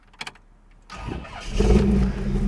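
A couple of starter clicks, then a 1956 Chevrolet Bel Air engine cranks and catches, building into a loud, deep rumbling idle close by.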